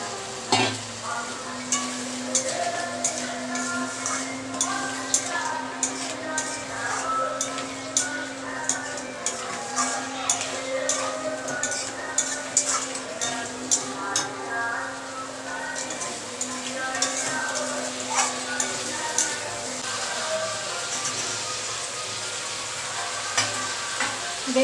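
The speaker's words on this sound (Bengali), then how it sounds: "এবার ক্যাকড়াটা দিয়ে দিচ্ছি।" Crab pieces fry in a thick spiced masala in a pan, a steady sizzle running throughout while a spatula scrapes and knocks against the pan in a regular, repeating rhythm, close up.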